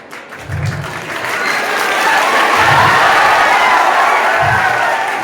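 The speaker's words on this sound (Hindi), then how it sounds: "बजा लो ताली।" A large crowd at a rally bursts into loud, sustained clapping and cheering that swells and holds, with a few muffled thumps underneath.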